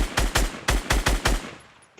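Rapid gunfire from a video game firefight: five or six loud, sharp shots in quick succession, then a fading tail and one faint final crack, with no voices over it.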